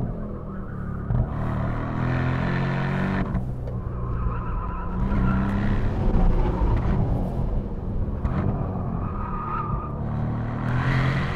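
Porsche Panamera Turbo E-Hybrid in Sport Plus mode on the Monteblanco race circuit, heard from inside: a continuous, loud engine roar that rises and falls through gear changes, with tyre noise throughout.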